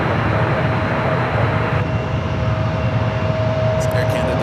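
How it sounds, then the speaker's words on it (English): Broadband roar of an Air Canada airliner at San Francisco airport, loud and steady throughout, with a thin constant tone running through it and a brief burst of radio chatter near the end. "It's Air Canada flight heading to Toronto, flight 740."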